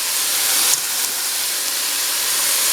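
Garlic sizzling in a hot pan while cooking jambalaya, a steady bright hiss that stays even and close throughout, with no talking.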